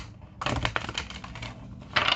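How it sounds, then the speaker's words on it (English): Tarot cards are shuffled in quick, crisp riffling bursts, close by, with a brief pause before a final flurry. "we have to shuffle one more time"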